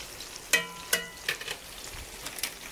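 Wild channel catfish nuggets in a spicy Louisiana fish fry coating, frying in hot oil with a steady close sizzle and a few sharp clinks of stirring or turning.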